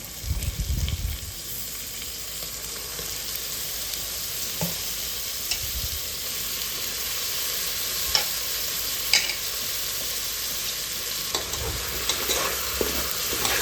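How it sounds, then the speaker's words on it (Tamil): Marinated mushrooms stirred into a sizzling biryani base in a pressure cooker, a steady frying hiss under intermittent scraping stirs and a few clinks, close and alone. "அந்த காளான் எடுத்துக்கோங்க காளான் எடுத்துகிட்டு ஆட் பண்ணிக்கோங்க"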